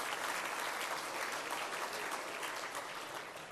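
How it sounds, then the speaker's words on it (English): At an awards ceremony, an audience applauds Merit Award winners with a thick, continuous clatter of many hands, even and unbroken for the whole stretch, heard somewhat distantly and with no speech. "Please give our Merit Award winners a big round of applause."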